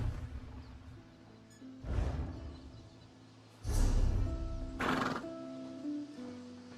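A horse in a video game neighs loudly several times, whinnies rising over a quiet layer of game music and faint hoof clops, with no talk.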